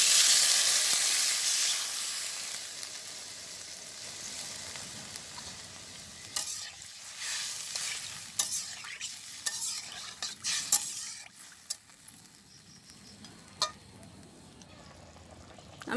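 Water goes into a pan of frying taro (kochurmukhi) curry, starting with a loud hiss that fades into a quieter simmer, then scattered sharp stirring clinks and scrapes against the pan.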